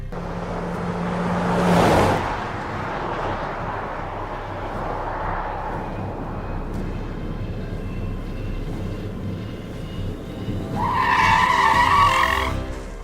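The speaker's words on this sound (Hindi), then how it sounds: "रघु ने नताशा को गाड़ी में बैठा दिया और वे तुरंत हॉस्पिटल की ओर निकल गए" A car speeds off in a hurry, with a brief tire skid near the start, a steady engine drone through the middle and a louder squealing surge toward the end.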